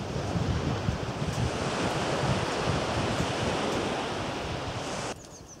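Surf washes continuously onto the beach at Swanage, a dense broad rush of breaking waves mixed with wind buffeting the microphone, steady and fairly loud until it drops away near the end.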